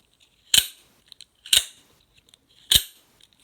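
Guardian Tactical Recon-Elite OTF knife deploying and retracting: three sharp, loud metallic snaps spaced about a second apart, close up, with faint small clicks between them and no talking.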